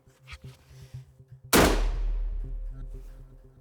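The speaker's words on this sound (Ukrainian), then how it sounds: "Це 21 грам картеч, тому стріляй, будь ласка, не по металевим мішенням" A single loud shotgun blast firing 21-gram buckshot at a paper target at a shooting range, a sharp close report with a long decaying boom, preceded by faint rhythmic mechanical background noise.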